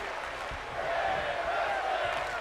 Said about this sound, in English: the crowd chanting women's wrestling